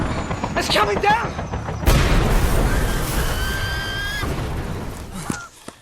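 A helicopter explodes in a sci-fi found-footage thriller film set in a forbidden forest: a sudden loud blast erupts midway and rolls into a long, rumbling roar, with scattered earlier clatter, thin whistling tones and tense voices around it.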